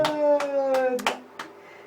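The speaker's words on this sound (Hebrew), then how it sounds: "מחיאות כפיים." A one-year-old baby in the bath claps hands a few times, soft uneven slaps spaced about a third of a second apart, under a woman's sung and spoken voice.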